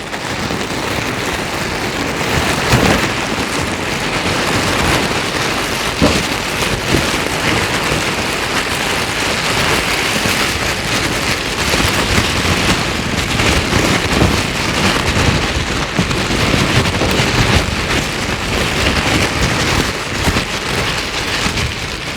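A thin plastic cover is crumpled to imitate rain: a steady, dense, loud crackling patter that continues unbroken like a heavy downpour, with no talk.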